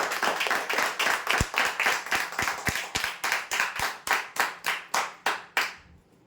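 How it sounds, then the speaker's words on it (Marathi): An audience claps for prize winners at a lottery draw, a steady run of firm, evenly spaced claps that grows sparser and more distinct toward the end, close and clear with no talk over it. "जोरदार टाळ्या होण्यासाठी"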